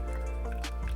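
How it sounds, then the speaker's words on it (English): Clementine tonic water poured into a cocktail glass to top off a coffee and Amaro cocktail, a brief close liquid fill with soft dripping and fizzy splashing over a steady low background hum. "And I'm just gonna top off with tonic water."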